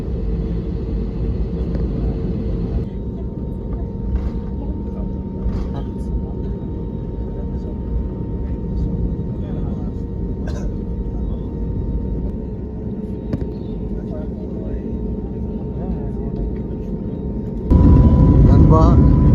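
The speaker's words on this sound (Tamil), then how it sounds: "டேக் ஆஃப் ஆயிடுச்சு. சத்தம் காதை கிழிக்குது." Jet airliner departing for Kuwait on an Etihad or Emirates service, with a steady, loud engine roar and low rumble heard from inside the cabin, swelling sharply louder near the end as full takeoff thrust builds.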